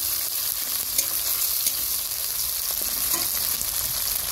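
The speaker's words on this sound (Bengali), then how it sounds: "টমেটো আর কাঁচা লঙ্কাটা একটু ভাজা ভাজা হয়ে গেলে এরপরে দিয়ে দিচ্ছি আদা জিরে বাটাটা" Tomatoes, green chillies and a ginger-cumin paste fry in a pan for a Bengali fish-head and Malabar spinach stem dish, a steady loud sizzle with a few soft stirring scrapes and clicks, no talking.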